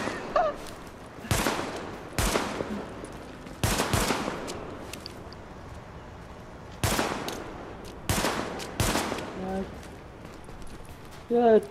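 Gunfire in The Division as a player shoots out a sign, several sharp bursts spaced across the clip with quiet gaps between them.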